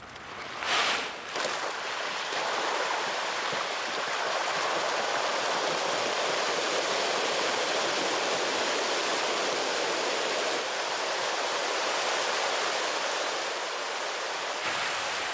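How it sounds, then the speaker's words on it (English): Dense, steady splashing and churning of water as pangas crowd to feed in an industrial fish pond at breakfast time, a broad continuous rush with a brief louder burst near the start and no voices. "watch the show while the fish have their breakfast"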